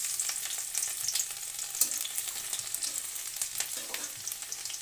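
Chopped garlic frying in hot oil, a steady bright sizzle with crackling pops and occasional stirring, close and alone with no voices.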